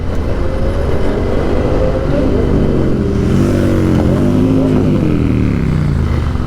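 A Royal Enfield GT motorcycle rides along the road, its engine a steady loud low thrum with rising and falling revs, heard up close from a riding vantage.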